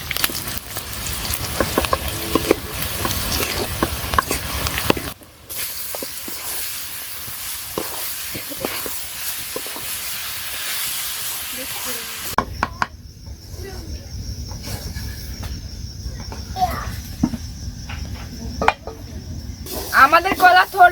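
Chopped chilies, onion and garlic with cumin, coriander powder and turmeric frying in oil for a banana-stem bhaji in a village kitchen, a steady close sizzle and crackle with clear changes in intensity and brief stirring noises.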